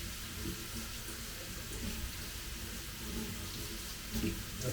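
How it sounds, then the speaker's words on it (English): Fresh coriander is rinsed under a running kitchen tap, giving a steady close splashing water flow with slight shifts as the leaves are moved in the stream. "So I'm just going to wash the coriander."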